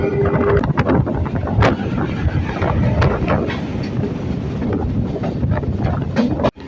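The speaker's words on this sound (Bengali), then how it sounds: "আমাদের ট্রেনটা এই মুহূর্তে ঢুকছে লেক গার্ডেন স্টেশনে" A suburban train pulling into Lake Gardens station on the Sealdah–Budge Budge line, loud rumbling wheel clatter with rhythmic rail clicks and wind buffeting, heard close from inside the moving train.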